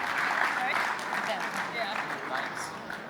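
Sustained applause from a cryptography conference audience at a rump session, a broad wash of clapping that slowly thins out over about three seconds.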